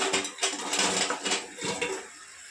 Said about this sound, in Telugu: చికెన్ తీసుకొని కలిపేసుకున్నాం